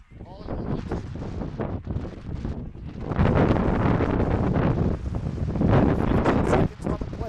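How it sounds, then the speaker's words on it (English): Gusty wind buffets the microphone at an outdoor high school football game between Springville and Green Canyon, a loud continuous roar that swells stronger midway, with crowd and commentary faintly beneath. "Wind's picking up. Gusts."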